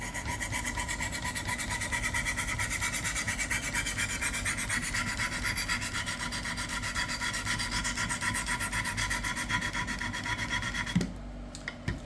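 A flexible kitchen knife is drawn over a sharpening stone in steady, continuous rasping strokes, close and fairly quiet, ending with a brief clink.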